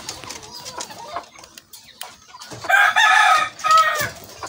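Kadaknath chickens on a farm cluck steadily at close range, then a loud rooster crow rings out twice near the end over the continuing flock noise.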